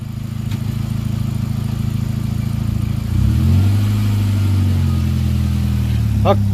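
A VW Jetta Mk4 diesel engine idles steadily, then shifts pitch around midway as it revs slightly, with a faint clunk near the end as it is shifted into gear.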